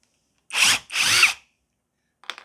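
A brushless impact driver runs at low torque in two quick bursts of whirring and rattling, with a short faint blip after a pause.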